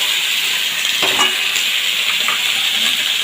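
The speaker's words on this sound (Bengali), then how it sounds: "কেটে ধুয়ে রাখা সবজিগুলো এখানে আছে আলু বেগুন পটল কুমড়ো ঝিঙে ডাটা আর কয়েকটা চেরা কাঁচা লঙ্কা বেশ সুন্দরভাবে মিশিয়ে দেবো" Mixed vegetables frying in a pan, including potato, eggplant, pointed gourd, pumpkin, ridge gourd, drumstick and slit green chillies, with a loud, steady sizzle and a few brief stirring scrapes, with no talking.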